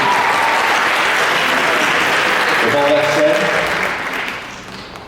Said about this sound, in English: huge round of applause and a thank you to the Lumberjack Activities Board